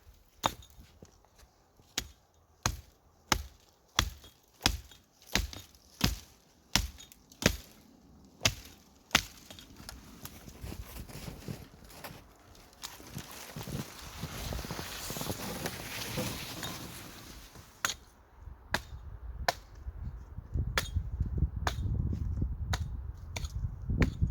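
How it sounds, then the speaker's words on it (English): An axe chops into a poplar tree outdoors in winter, a steady series of sharp, evenly spaced thwacks, then a noisy stretch of rustling and creaking, then more chops, with no talking. "So we're gonna hack this down and then move out onto the ice."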